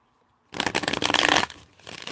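A tarot deck being shuffled in one quick riffling burst lasting about a second, close and crisp, then a softer rustle as the cards settle.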